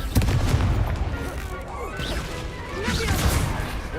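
A Confringo spell explosion in Hogwarts Legacy: a sharp blast near the start, then crashing and whooshing spell effects rolling on for a few seconds.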